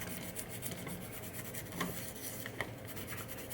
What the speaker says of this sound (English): I recommend Scotch-Brite green scrubby pads.